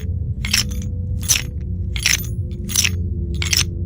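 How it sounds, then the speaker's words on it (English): Metallic rattling for an animatronic in a Five Nights at Freddy's game: five sharp, bright clattering bursts spaced evenly under a steady low rumble, with no voices. "Scrap Baby's sound effect is metallic rattling."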